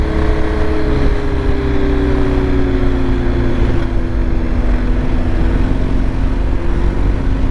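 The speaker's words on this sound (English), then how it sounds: "These things, these BMW, the engine just pulls and pulls and pulls." A 2023 BMW R 1250 GS Adventure motorcycle under way, its engine droning loud and steady with a pitch that slides gradually downward, buffeted by wind noise and no voices.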